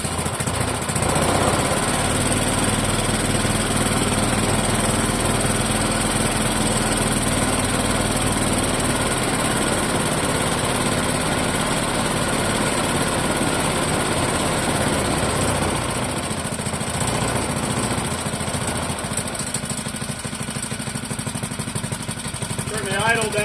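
Clinton model 3100 small engine running after carburetor and exhaust work, a loud, steady, close-up chugging drone that shifts slightly in pitch late on, with no talk over it.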